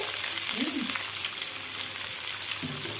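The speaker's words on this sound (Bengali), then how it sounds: "কিছুটা পেঁয়াজ কুচি দিয়ে ভাজছি, পেঁয়াজটা ভেজে নিচ্ছি।" Chopped onions fry over low heat in a pan, giving a steady close sizzle with soft stirring scrapes, and no one speaks.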